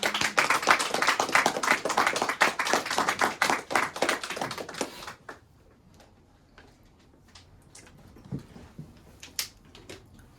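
A church congregation applauds at a Spanish-language sermon, a burst of dense clapping that stops abruptly about halfway, leaving only a few faint scattered claps and small room noises.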